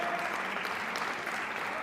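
Steady, dense applause filling the chamber of the French National Assembly, continuous clapping from many hands with no pause.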